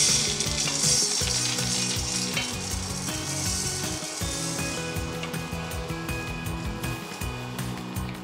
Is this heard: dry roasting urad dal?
yes